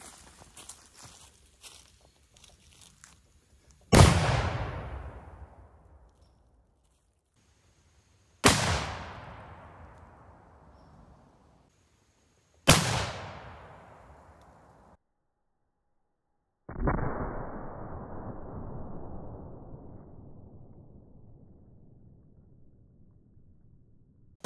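Four sharp, loud blasts from a cannon firing a 3D printed PLA cannonball at a watermelon, spaced a few seconds apart outdoors, each with a long decaying rumble, the last one fuller and longer.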